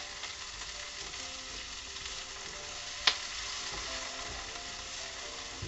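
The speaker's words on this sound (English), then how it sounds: "I just kind of keep stirring this in," Carrot soup heating in a pot is stirred steadily, with a soft continuous simmer and sizzle and one brief sharp clink of the spoon against the pot near the middle.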